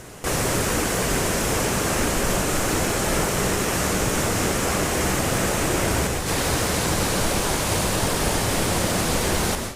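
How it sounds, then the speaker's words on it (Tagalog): A strong waterfall pours into a creek, a loud, continuous broadband rush that fills the whole stretch and barely changes. "palakas ang tubig ng waterfalls na ito. Tingnan nyo, napakalakas ang tubig"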